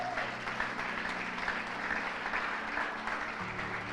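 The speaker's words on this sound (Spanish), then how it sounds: "Denle un fuerte aplauso a Dios por eso." A church congregation applauds steadily, a dense wash of clapping from many hands sustained for several seconds with a low hum beneath.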